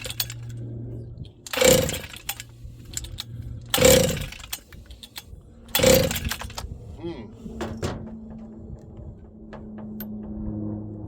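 Husqvarna 268XP chainsaw being pull-started: three loud starter-rope yanks spaced about two seconds apart, each a ripping burst over a low engine hum, with faint handling clatter after.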